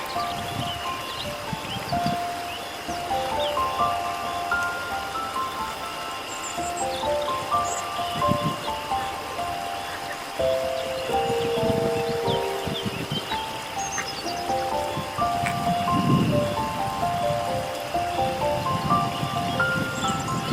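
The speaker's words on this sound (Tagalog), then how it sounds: "yun lang umaambon" Light rain drizzles steadily with a soft, continuous hiss by the Gyorzamoly River, while faint tonal chirps and hums sit in the background throughout.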